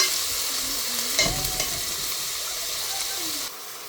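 Tomatoes and onions fry together in a pan with a steady close sizzle and stirring scrapes, a faint voice murmuring underneath before the sound drops away near the end.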